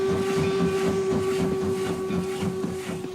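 Loud, steady hissing and chuffing of a steam locomotive, with a rhythmic pulse and a sustained whistle-like tone running throughout.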